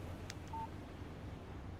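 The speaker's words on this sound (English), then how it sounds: "text message from Barry." A phone message alert sounds in Alan Wake Remastered, a short electronic tone over a faint background hush, with one brief click just before it.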